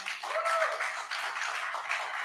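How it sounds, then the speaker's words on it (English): Applause from an audience at an online travel awards ceremony, a steady continuous wash of clapping at moderate level, faint and somewhat distant, with no talk over it. "A round of applause, guys."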